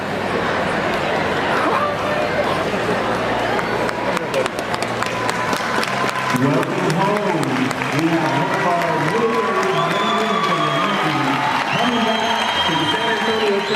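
A crowd cheers and applauds as a father back from Navy service overseas hugs his son on Father's Day, with steady loud applause, excited chatter and shouts throughout.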